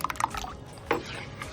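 Water is splashed into thin dosa batter made with bottle gourd, giving a few short, close wet splatters and drips in two quick bursts, with no speech.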